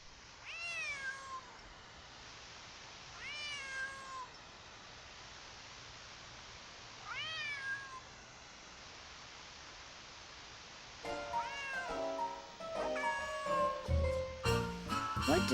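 A cat meows in a Nancy Drew video game, four or five drawn-out, fairly close meows spaced over a steady background hiss, the last ones overlapped by game music.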